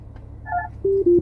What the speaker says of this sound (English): I'm sorry, I had got a phone call